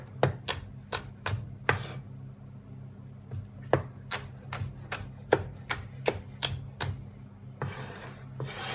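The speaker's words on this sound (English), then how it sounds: "And then just slice it very thinly like that" A knife slices a deseeded chili thinly on a cutting board while preparing Peruvian lomo saltado. Crisp, close chops land in a quick, uneven rhythm, pause briefly, then resume, with no talking.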